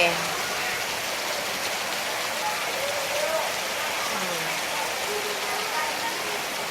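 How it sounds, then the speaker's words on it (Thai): Heavy rain pours steadily on a school area in the morning as a dense, even hiss that stays loud throughout, with faint voices murmuring underneath. "โอ้ยฝนตกงามคัก"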